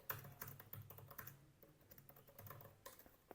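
Fingers tap on a computer keyboard in quick, uneven bursts of clicks, close and fairly quiet, with no talking.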